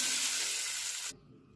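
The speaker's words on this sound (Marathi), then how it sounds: "जिरे छान तडतडू द्यायचे।" Half a spoon of cumin seeds in very hot oil gives a bright, steady hissing sizzle that cuts off abruptly after about a second, leaving near silence.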